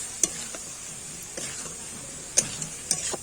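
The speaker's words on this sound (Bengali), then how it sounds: "এখানে ধনিয়া গুঁড়ো আর ভাজা জিরে গুঁড়ো দিয়ে দিচ্ছি, দিয়ে আবারও ভালো করে নাড়াচাড়া করে নিচ্ছি" Cauliflower frying in a pan with ground coriander and roasted cumin, a faint steady sizzle broken by a few sharp scrapes and clicks of a spoon stirring, spaced irregularly.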